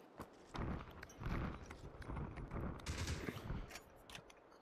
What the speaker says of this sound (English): Oop, shooting on our right.